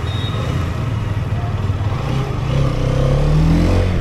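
A Hero Xtreme 210 motorcycle engine runs steadily at idle, a loud, continuous low rumble with a faint rise in pitch toward the end.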